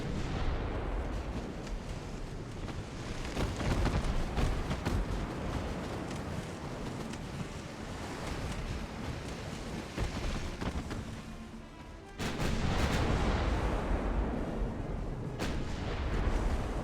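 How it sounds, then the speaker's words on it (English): Battleship guns in the naval video game Ultimate Admiral: Dreadnoughts fire at a light cruiser, a continuous rumbling barrage of loud booms with a sudden heavier burst of fire late on. "shooting this light cruiser with a shit ton of ammunition"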